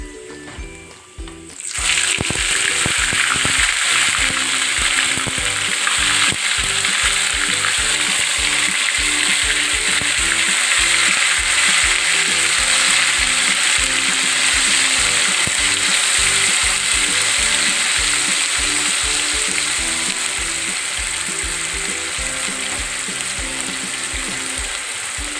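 Ground spice paste hits hot oil for chicken kosha, bursting into a loud sizzle that settles into steady, crackling frying with occasional stirring scrapes, no talk.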